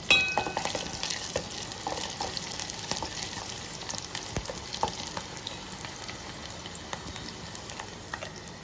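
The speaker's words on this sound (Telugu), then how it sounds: "ఆనియన్స్ వేగుతున్నాయి" Onions and crushed garlic frying in a pan for tomato dal, with a steady close sizzle and scattered crackles that slowly settle.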